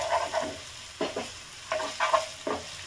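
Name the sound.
stir-frying ginger and garlic with rice for schezwan fried rice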